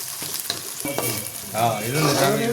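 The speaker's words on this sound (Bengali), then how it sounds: "পাশাপাশি সুন্দর একটা ভাজার শব্দ" Crab curry ingredients fry in a hot pan, a bright crackling sizzle punctuated by a few scraping stirs early on, then swelling into a louder, continuous spatter.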